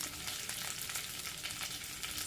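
Green chillies fry in hot oil in a pan for a tender jackfruit masala, giving a close, dense, steady sizzle and crackle with faint stirring throughout.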